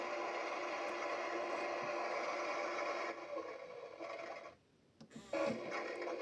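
A toy Bosch washing machine spins, giving a steady, faint motorized whir that drops out briefly and then resumes.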